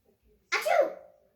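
A single sharp sneeze is imitated by a voice reading a children's storybook aloud, bursting out after a near-silent pause and trailing briefly away.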